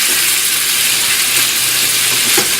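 Chicken pieces sizzle in a frying pan as they are stirred, a steady, close, bright hiss that continues without break and without talk.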